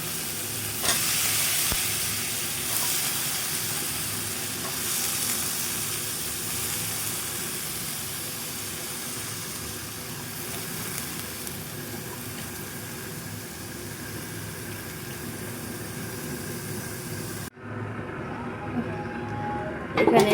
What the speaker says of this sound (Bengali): এখানে আমরা সবজিটা দিয়ে দেবো এখন